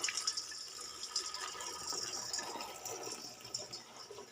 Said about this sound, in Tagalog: maghuhugas muna na ng pinagamitan